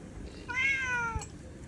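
A cat lets out a single drawn-out meow, fairly soft, over a low steady background hum, with no one talking.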